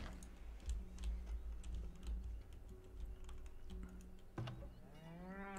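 Cattle low in the video game Farthest Frontier with a few drawn-out moos, mixed with steady keyboard typing and clicking.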